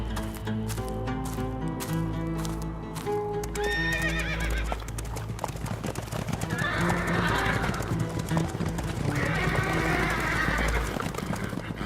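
Several horses neigh and whinny repeatedly over steady clip-clopping hooves, with ambient music and a faint murmur of voices, in a historical drama setting.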